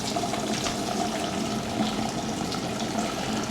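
Rusty coolant water draining out of the engine block of a 1970 Ford Falcon, a steady continuous splashing gush running at an even level throughout.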